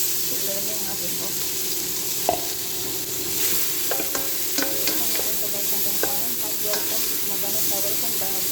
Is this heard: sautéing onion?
yes